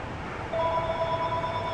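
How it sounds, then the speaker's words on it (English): A telephone rings inside a home, a steady electronic ring tone starting partway in and continuing over a faint room background. "I gotta answer the phone now"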